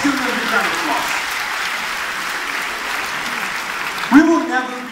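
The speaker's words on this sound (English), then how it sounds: "Let's give them a big round of applause." At a 2019 LPU commencement exercise, an audience applauds parents and guardians with steady, dense clapping; a voice cheers out over the crowd near the end.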